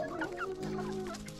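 A chicken clucking in a village coop, a close, steady run of throaty, tonal clucks and murmurs with no talk over it.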